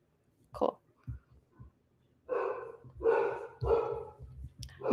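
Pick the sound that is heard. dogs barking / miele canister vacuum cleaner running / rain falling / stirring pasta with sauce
dogs barking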